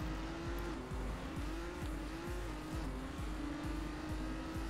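In the Trackmania Turbo racing game, a car engine drones continuously with stepped pitch changes, while the car brakes and its tires squeal through a corner, loud and unbroken throughout.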